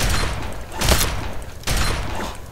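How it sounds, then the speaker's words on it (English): Shotgun blasts go off in Fallout 3, two heavy booming shots about three quarters of a second apart, loud and close with no voices. "Shotguns always prove useful in the end."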